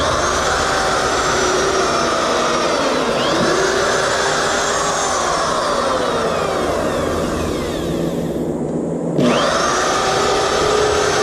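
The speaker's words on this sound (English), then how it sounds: "So now what I'll do is drill, pre-drill." A power drill pre-drills screw holes in wood for a homemade fillet table, running as a loud, steady whine that sweeps up and down in pitch, dropping out briefly near the end before starting again.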